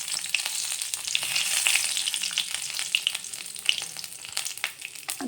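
Garlic cloves and curry leaves frying in hot oil in a pan, a steady bright sizzle with crackling pops throughout, close and fairly loud with no talk.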